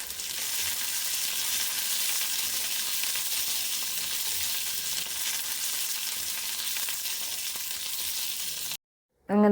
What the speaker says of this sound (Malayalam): അത് നന്നായിട്ട് പൊട്ടിയതിന് ശേഷമാണ് നമ്മൾ അരിഞ്ഞു വെച്ചേക്കുന്ന വറ്റൽമുളക്, പച്ചമുളക്, കറിവേപ്പില ഇത്രയും സാധനങ്ങളിട്ട് നന്നായിട്ടങ്ങ് മൂപ്പിച്ചെടുക്കണം.